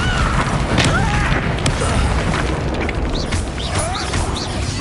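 A Confringo blasting spell goes off during a duel in the video game Hogwarts Legacy, a loud, continuous roar of bursts and crashing debris layered with whooshing magical effects and faint shouting underneath.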